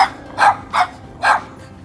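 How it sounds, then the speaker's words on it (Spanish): A guard dog outdoors gives three sharp, loud barks close by, spaced about half a second apart, with no talk over them. "Y esas son las fieras a las que Mina les gruñe."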